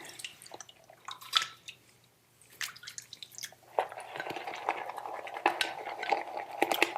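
Water drips and trickles into shaving lather in a bowl, with small wet clinks and stirring sounds, sparse at first and then busier and closer toward the end, with no talking.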